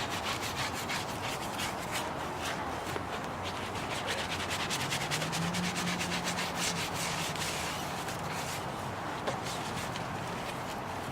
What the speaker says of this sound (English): Horsehairs brush for the tires.